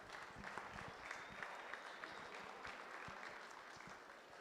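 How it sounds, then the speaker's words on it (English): A crowd applauds at a beef expo auctioneer contest: steady, dense clapping from a large audience, sustained throughout with crisp individual claps standing out, no talking over it. "Let's give them a big round of applause."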